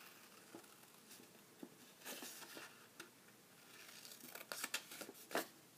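Stampin' Up! paper snips cut through cardstock for a punch-board pouch box, making faint, close snipping and crisp rustling of paper in short irregular bursts.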